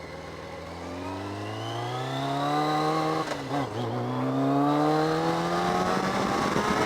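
Motorcycle engine running while riding, its pitch climbing steadily through a gear, dipping briefly with a shift, then rising again, loud and close with no talk.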